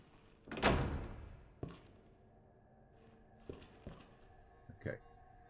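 A door in the Resident Evil 2 Remake video game opens with a loud heavy whoosh and thunk, followed by a few softer clunks and latch knocks as it closes.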